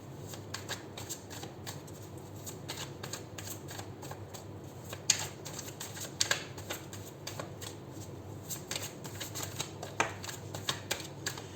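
Tarot cards are shuffled close up in a steady, crisp riffling flutter with occasional sharper snaps, continuous throughout.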